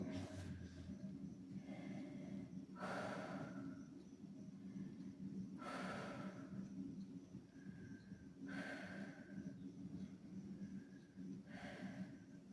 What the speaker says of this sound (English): Take about 5 deep breaths here.